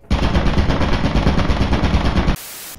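Rapid turret gunfire in a video game, a loud, steady burst of closely spaced shots lasting over two seconds before cutting off abruptly into a hiss of noise.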